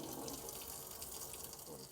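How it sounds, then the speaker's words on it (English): Hot water runs from a tap in an Adria Coral caravan, a steady close rushing splash that holds unbroken and fairly quiet for the whole stretch. "This is just showing you that the hot water is working."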